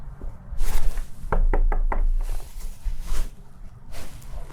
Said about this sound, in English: I have to knock about 4 times